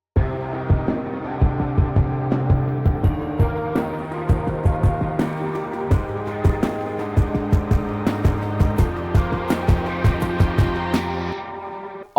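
Full mix of a moody, synth-heavy alternative rock section: layered sustained synth chords and a low bass line under a steady pulse of short percussive ticks, dense and continuous for about twelve seconds before cutting off.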